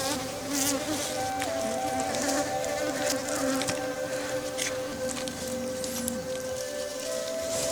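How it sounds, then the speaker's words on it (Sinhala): Honey bees buzz steadily around honeycomb frames during home honey extraction, a close, continuous droning hum with individual insects passing near. "තවදුරටත් මීමැස්සෝ මේ පැණි වදවල ඉන්නවා නම්"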